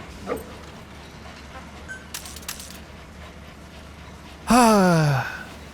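A dog barks in Metal Gear Solid 5: Phantom Pain on PC, one short bright bark-like burst with a falling yelp near the end, following faint scattered clicks and rustles over a quiet background.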